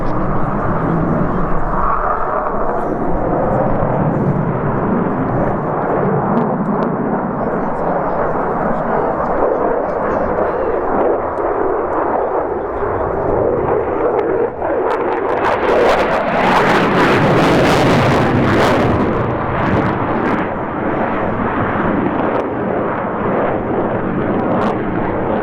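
Fly-by-wire jet aircraft flying past at an air show, a loud continuous roar that swells and peaks midway with rushing, crackling intensity, with an announcer talking over it.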